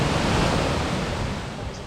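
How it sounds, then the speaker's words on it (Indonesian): Large waterfall at Coban Rondo in Malang, a steady broadband roar of rushing water that stays loud and continuous throughout, heard close up from the viewing area at its base. "Nah, ini kita sudah sampai di persis di pelataran air terjunnya."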